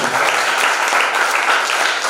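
Audience applause at a company recognition function for a marketing manager: dense, steady clapping from many hands, loud and continuous throughout.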